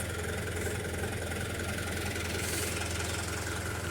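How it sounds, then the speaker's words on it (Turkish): Tractor engine idling steadily while warming up on a dairy farm before feed mixing, a loud, continuous low rumble with even knocking pulses and vibration throughout, close by and with no talking. "traktörü çalıştırdım. Isınıyor şu anda."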